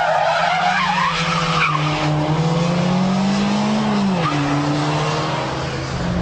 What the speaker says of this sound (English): The handbrake turn to go backwards, and then follow that with a reverse flip.